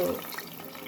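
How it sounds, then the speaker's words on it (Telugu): Water pours into a cooking pot for pulao, a short, close, continuous splash. "నీళ్లు పోస్తున్నాను."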